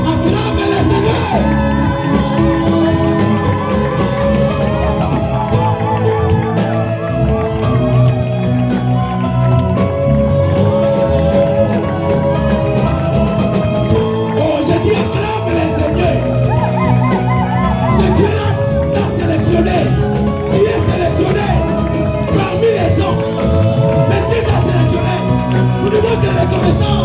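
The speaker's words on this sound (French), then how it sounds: "les gens qui ont des cris du cœur, acclament le Seigneur" A church congregation shouts and cheers acclamations to the Lord, a dense, loud and continuous crowd of voices with whoops and yells over music, with no break throughout.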